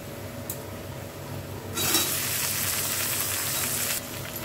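Chopped tomato is added to onions frying in a pan for paneer biryani, and a louder burst of sizzling rises for about two seconds over a steady background hiss.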